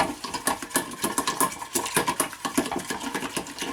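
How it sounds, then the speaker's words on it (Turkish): Eggs are whisked in a bowl for a börek sauce, with fast, even tapping and clicking from the whisk in a steady, rattling rhythm. It sounds close and continuous, with no voices. "Yumurtamı çırpıyorum öncelikle"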